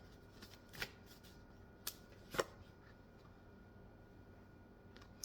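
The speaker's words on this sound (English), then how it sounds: "I'm going to pull one more card for this section." Tarot cards being shuffled and pulled during an intuitive reading, a few soft close riffles and snaps spaced apart in an otherwise quiet room, with no talking.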